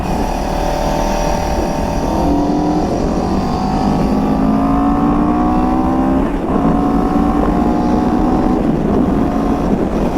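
A CFMoto 700 CL-X motorcycle engine pulls hard under acceleration, its steady drone climbing in pitch over several seconds through smooth gear pulls, loud and close with wind rushing past the microphone.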